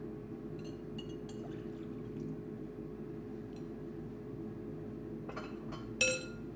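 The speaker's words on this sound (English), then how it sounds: "I'm going to add to it 1 cup of cold water" Cold water poured into a glass container holding dissolved orange Jell-O, a steady close liquid wash with light glassy clinks and a sharper clink near the end, no talking.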